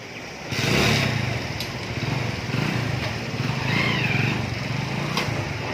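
A small motorcycle engine drones steadily nearby, its pitch rising and falling slightly as it rolls along towing a rattling trailer.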